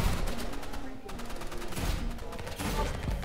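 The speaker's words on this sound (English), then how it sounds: "This weapon is so good. The combo with the assault rifle and the Uzi." Assault rifle and Uzi fire in a Roblox Rivals match rattles in dense, continuous bursts, loud and busy throughout with a brief dip midway.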